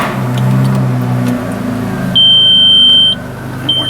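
An Audi B5 S4 engine cranks and fires up and then idles while a steady electronic beep sounds for about a second, followed by a shorter beep near the end.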